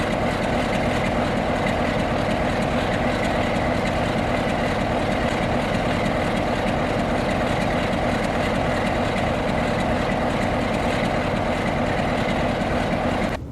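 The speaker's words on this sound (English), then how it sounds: "We are now on board the train heading to Wymondham Abbey." A steady, loud mechanical drone of a heritage train on the Mid-Norfolk Railway, dense low rumble and broadband noise sustained without a break, heard from on board.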